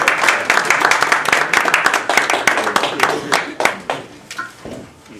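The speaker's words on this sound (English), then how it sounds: "let us welcome, yay, with a rousing round of applause, Dr. Stephen Walsh" An audience at a college evening lecture applauds to welcome Dr. Stephen Walsh: loud, close clapping from a modest crowd that stays full for a few seconds, then thins into scattered claps and fades.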